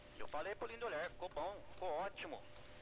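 A Russian-language pirate radio transmission picked up from a satellite comes through a receiver with a narrow, tinny tone and a faint reverb echo, speaking in short phrases over a hissing background.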